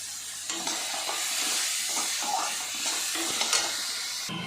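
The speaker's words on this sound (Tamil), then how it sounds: "வெங்காயம் நல்லா செவரணும்." Onions fry in a pan for paneer butter masala, a dense, even hissing sizzle up close with soft stirring scrapes and bumps throughout.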